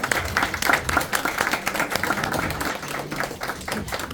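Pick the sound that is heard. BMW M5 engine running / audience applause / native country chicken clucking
audience applause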